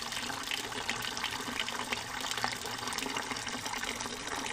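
Water flowing steadily through a mountain village in Kochi, a continuous soft rushing and gurgling that stays even and fairly quiet, heard alone without voices.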